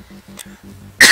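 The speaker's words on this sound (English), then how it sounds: "So it's a little dry, so if I cough a lot," A single loud, harsh cough bursts out at the end after a stretch of quiet low murmur, close and abrupt, from a person playing the space game Star Conflict in Oculus VR.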